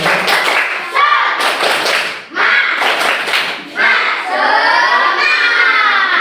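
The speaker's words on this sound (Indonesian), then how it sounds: "Coba tepuk semangat dulu ya." A group of schoolchildren in a classroom performs the tepuk semangat clapping chant, with loud rhythmic bursts of claps and shouted chanting voices in several short phrases, ending in a sustained group shout.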